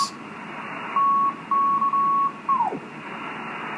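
Amateur radio signals on a band heard through a receiver: a steady tone beeps on and off in several Morse-like bursts over a hissing noise floor, the last one sliding downward in pitch before fading.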